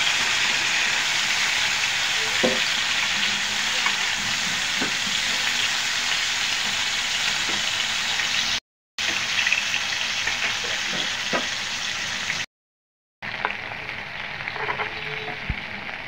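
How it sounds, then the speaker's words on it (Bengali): Fish frying in hot oil in a pan, giving a steady loud sizzle that runs continuously with a few brief cutoffs and occasional soft pops and clinks. "এখন মাছগুলি ভেজে নেব।"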